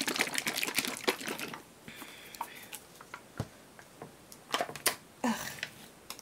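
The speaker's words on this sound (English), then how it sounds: "So shake this up." Jimmy Dean Simple Scrambles egg mix is shaken in a plastic cup, giving rapid close rattling taps that stop, then return in a few short bursts.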